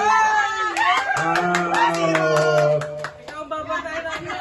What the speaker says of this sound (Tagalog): Grabe yung palakpak.